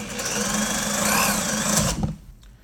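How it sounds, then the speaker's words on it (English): Electric drill boring a hole through wood, a loud continuous whining buzz that holds steady for about two seconds and then cuts off abruptly as the bit breaks through. "See how the drill went through really quick?"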